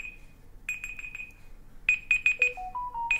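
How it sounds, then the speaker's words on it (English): A timer alarm rings in repeated bursts of bright electronic beeps, one run of five then a second run that steps through rising and falling tones, loud and close in a quiet room with no talking. "My timer is obviously off."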